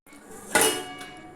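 Cashews and cardamom pods pounded in a metal mortar and pestle, giving a single sharp clanking strike followed by a few faint ringing knocks, close and fairly quiet.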